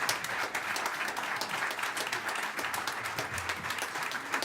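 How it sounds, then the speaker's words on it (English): Steady applause from a debate audience fills the space, a dense continuous wash of clapping without pauses. "You may applaud."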